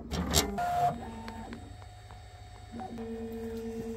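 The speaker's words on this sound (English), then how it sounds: "Start by homing your printer." A Bambu Lab X1C 3D printer homing: stepper motors whine in changing steady tones as the axes move, with brief clicks and mechanical shifts between each movement.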